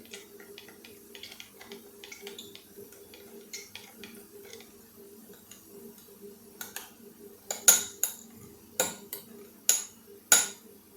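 A metal spoon stirring and clinking against a bowl while mixing raw banana pakoda batter, light scraping at first, then a series of sharp, bright clinks growing louder and more spaced toward the end.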